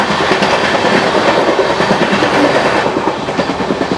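Express train rolling fast on rails during an overtake, with steady loud rumble and rhythmic clickety-clack of wheels over rail joints, continuous and close throughout.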